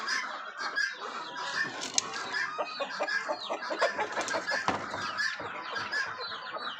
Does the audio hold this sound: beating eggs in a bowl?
no